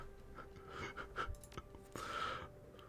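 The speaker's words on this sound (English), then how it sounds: "All you can hear behind you is the heavy panting of Duncan as he watches you walk away." Heavy panting from Duncan, a character in the video game Shadowrun: Hong Kong: faint, breathy gasps and exhales come in uneven bursts at low volume.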